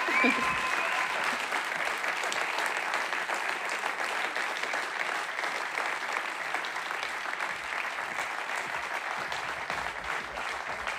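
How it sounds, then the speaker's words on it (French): Sustained audience applause at a regional sports merit awards ceremony: dense, even clapping from a large crowd that holds steady throughout. "Il les mérite, vos applaudissements."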